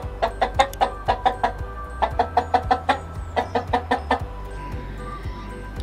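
A hen clucks close by in quick, rhythmic runs of sharp clucks, pausing briefly between bursts before trailing off.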